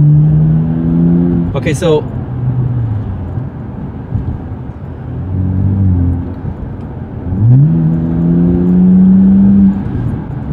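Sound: car accelerating on race mode with Windbooster throttle controller

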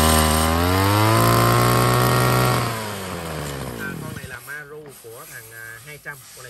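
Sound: Maruyama Japanese brush cutter engine running

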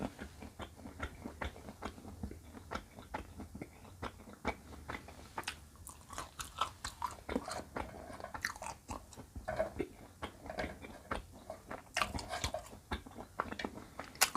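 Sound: biting and chewing crunchy young Thai herb boraphet

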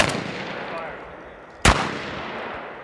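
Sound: shotgun firing one round at a tactical shotgun class

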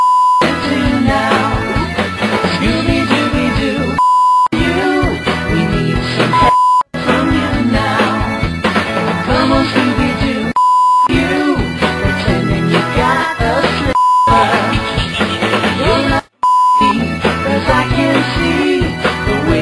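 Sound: random censor beeps over a theme song

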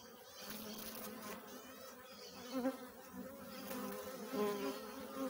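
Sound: honey bees in a hive during feeding

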